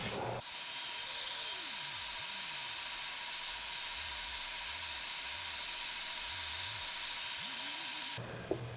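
A heat embossing tool runs continuously over an embossed image, giving a steady, close airy hiss and hum that holds for about eight seconds and then cuts off abruptly.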